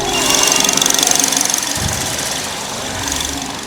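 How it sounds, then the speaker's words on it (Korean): A Chevrolet Malibu gasoline engine idles steadily with a low, even rumble and a faint high whine, running alone without any talk. "휘발유 엔진을 탑재한 차량 치고도 굉장히 조용한 상태를 자랑하고 있고"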